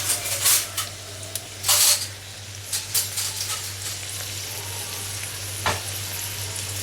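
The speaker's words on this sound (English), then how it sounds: "Stir the onion first with a spatula." Onion frying in a pan while a spatula stirs it, a steady close sizzle broken by several louder scraping stir bursts over a low constant hum.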